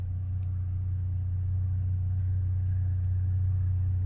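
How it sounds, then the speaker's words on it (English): A V6 Dodge Charger drives through a snowstorm, its engine and road noise a steady, loud low rumble heard from inside the cabin, with no talking. "V6 is not the car to drive in the snow, man"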